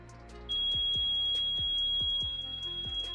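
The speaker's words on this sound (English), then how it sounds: "he caused the plane's smoke detectors to go off" Smoke detector alarm aboard a passenger plane, set off by vaping in the lavatory: a steady high-pitched electronic tone starts abruptly and holds continuously, with repeated low thumps underneath.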